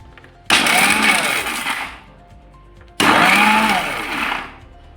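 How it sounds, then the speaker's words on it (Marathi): Mixer grinder jar grinding peanuts and green chillies in two loud pulses, each a harsh whirring roar of about one and a half seconds that winds down, with a short quiet pause between. "मिक्सर जारमध्ये आपण शेंगदाणे आणि मिरच्या"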